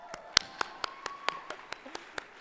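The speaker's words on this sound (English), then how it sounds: "I can never get tired of clapping for Jazz." Steady, evenly spaced claps ring out for Jazz Jennings at the 2016 HRC Foundation Time To THRIVE conference. The sharp single hits arrive in a regular rhythm over a faint tone.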